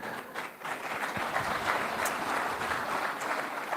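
An audience at an Amar Ujala Uttarakhand Samwad event claps in sustained, moderately loud applause that fills the hall, with faint voices mixed in.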